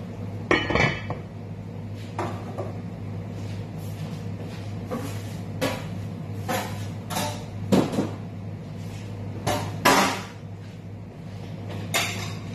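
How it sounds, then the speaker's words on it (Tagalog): A lid set onto a cooking pan while making tilapia escabeche, with a series of sharp metallic clinks and knocks spread across the stretch over a steady low stove hum. "Ngayon, tatakpan ko siya."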